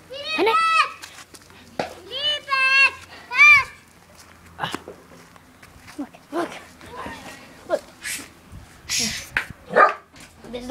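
Dogs fighting let out loud, close, strained yelps and barks in quick bursts early on, then scuffling and scattered noise while people talk.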